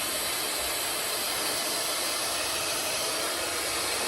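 A hair dryer with warm and cool settings blasts steadily on hot, a loud, even rushing hiss that holds unbroken for the whole stretch with no voices over it.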